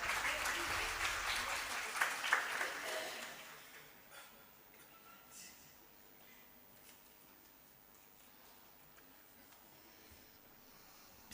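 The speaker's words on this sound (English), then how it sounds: "Please give a big round of applause for her." An audience at a scientific conference claps for about three seconds, a fairly faint burst of applause that fades into quiet room tone.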